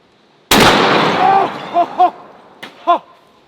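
One enormous close-range blast from a 950 JDJ Fat Mac rifle with a long rumbling decay, followed by brief exclamations from a person nearby.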